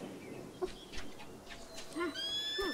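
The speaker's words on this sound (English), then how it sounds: "I hear a bird." Chirping calls from birds in a video game, a few short tonal whistles and squawks, fairly faint and spaced over quiet game ambience.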